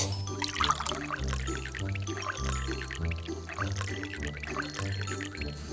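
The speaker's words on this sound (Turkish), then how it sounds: "Şimdi sulamak gerek." Water poured from a small container onto a toy garden trickles and splashes softly in a steady stream close by, over a looping background tune, with no talking.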